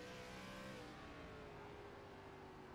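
Engine drone from inside an ARCA series race car in a sim racing game at New Smyrna, a steady, loud, continuous roar with a slowly falling pitch and no speech.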